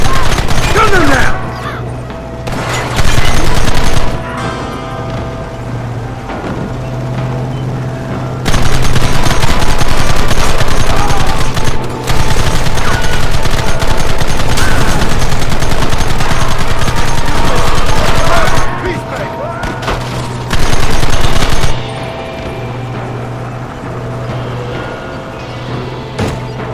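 Heavy gunfire from a Red Dead Redemption shootout, bursts of rapid rifle and machine-gun fire in loud sustained blocks that stop and restart, over a steady low rumble and shouting voices.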